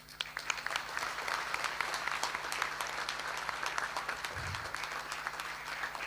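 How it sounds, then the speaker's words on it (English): Graduation ceremony audience giving a round of applause, a fairly soft, distant and even clatter of many hands sustained throughout with a low hum beneath. "Now let's give everyone, whether they are not here today with us, a round of applause for being part of our lives."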